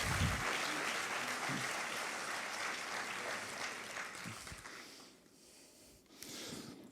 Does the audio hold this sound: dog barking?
no